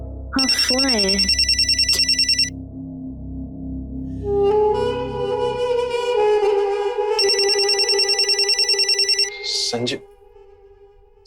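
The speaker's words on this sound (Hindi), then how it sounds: "फोन आया है। हाँ, फोन आया है।" A telephone bell rings loudly in repeated bursts, with electronic ringtone tones and a sustained hum between the rings.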